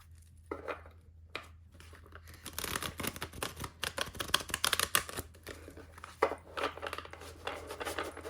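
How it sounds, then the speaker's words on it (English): A chunky tarot deck being shuffled and riffled on the corners in quick bursts, crisp papery flutters and snaps close by, with brief pauses between runs. "Let's give these cards a shuffle now."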